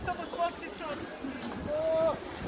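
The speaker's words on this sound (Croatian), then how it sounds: "Sada smo malo veslali, evo nas na sred reke." A rowing boat moves on a river with soft water splashing and wind across the microphone, a few faint voices in the background.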